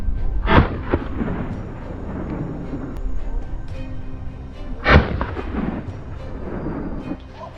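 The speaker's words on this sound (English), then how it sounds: "I stood my ground, gripped the rifle tightly, and opened fire." Two loud, sharp rifle shots crack outdoors during a wild boar hunt, one near the start and another about four seconds later, each followed by a rumbling echo over steady background noise.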